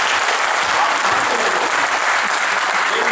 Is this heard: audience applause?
yes